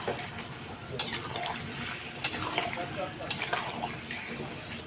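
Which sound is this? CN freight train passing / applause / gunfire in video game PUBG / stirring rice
stirring rice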